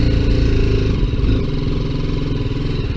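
A BMW G310GS single-cylinder motorcycle engine runs hard near 6,000 RPM, a loud close throbbing drone with rough mechanical clatter that stays steady throughout, no talking.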